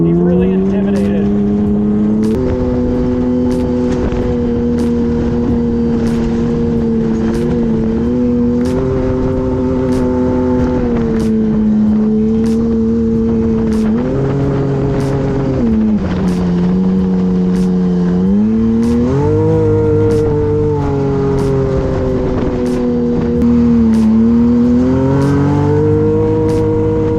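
Damaged Yamaha YXZ side-by-side driving with its engine droning loud and close, the pitch rising and falling as it accelerates and eases off, with a voice talking faintly underneath.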